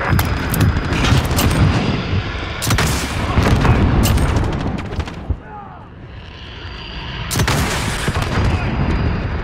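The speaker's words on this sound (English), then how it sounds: "we're taking some fire" Heavy gunfire and booming explosions from the Call of Duty Modern Warfare video game, loud and continuous with dense bursts, a brief lull near the middle, then another blast and renewed firing.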